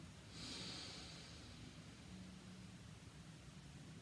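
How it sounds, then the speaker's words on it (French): Person drawing a deep breath in through the nose during a breathing exercise, a single soft airy inhale near the start followed by quiet hiss, faint and close, no talking. "Inspirez par le nez, expirez par la bouche."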